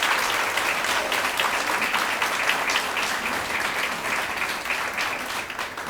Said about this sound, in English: So one more round of applause for all the people that have worked at Crow